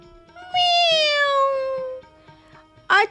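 A cat in an animated children's story gives one long, clear, rising-then-falling meow close up, followed by a short second mew after a brief pause, over faint background music.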